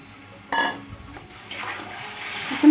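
Water splashes into a pan of cooking mango pickle with a sudden close pour, a short metallic knock, then a second splash that settles into a hissing sizzle.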